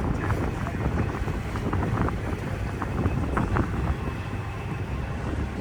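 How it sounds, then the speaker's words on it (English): Strong wind buffeting the microphone out on the water of New York Harbor near Ellis Island, a constant rough rumble and gusty roar with boat engine noise beneath it. "it's windy as shit out here on the water"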